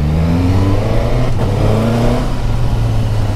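Suzuki GSX-S1000 GT motorcycle engine revving up through the gears, a loud, steady close-up drone with rising tonal bands that climb, break at a shift, and rise again.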